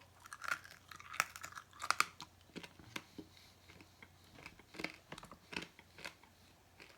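Crunching and chewing on a scorpion lollipop, with a run of sharp, close bites and crackles at an uneven pace and no talk over them.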